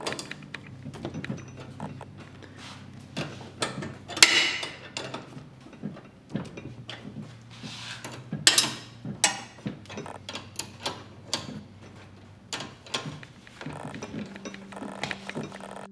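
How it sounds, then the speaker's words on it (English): Ratchet clicking while tie rods are tightened on a Battle Aero drift go-kart, irregular short bursts of metallic ticks and clacks with scattered handling knocks and a faint low hum underneath. "once you get the alignment straight, you just tighten down the tie rods"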